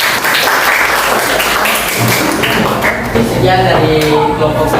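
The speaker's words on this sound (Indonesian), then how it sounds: "Terima kasih. Tepuk tangan." Classroom audience applauding after a student group presentation, a dense continuous clapping wash that fills the room, with voices talking over it toward the end.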